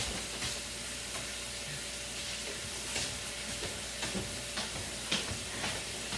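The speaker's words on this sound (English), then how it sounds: "So the bacon's cooking away in here" Bacon frying in a pan for a creamy bacon chicken dinner, giving a steady close crackling sizzle with scattered sharp pops and spits throughout.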